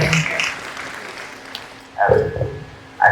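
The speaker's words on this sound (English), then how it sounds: "Please another round of applause for him." Audience at a business expo and summit applauding the event organiser, bursts of clapping at the start and again near the end, separated by quieter stretches with some murmuring.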